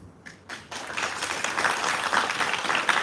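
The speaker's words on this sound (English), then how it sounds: "Come on, clap." A crowd of guests at an evening embassy reception applauds, clapping building quickly from a few hands into steady, dense applause that holds for several seconds.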